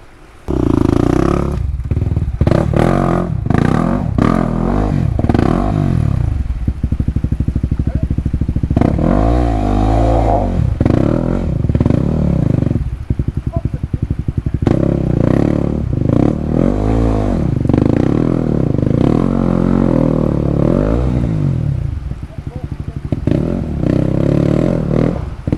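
A dirt motorcycle revs hard and loud while climbing a steep rooty hill, the engine surging and bogging repeatedly with clattering as the bike struggles over roots, very close throughout.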